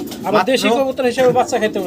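Pigeons cooing in soft, rounded bursts, overlapped by continuous nearby talk.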